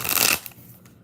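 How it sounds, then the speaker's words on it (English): A deck of playing cards is shuffled up close in a brief riffle that rustles loudly for a moment, then drops away to soft handling noise. "3 more shuffles."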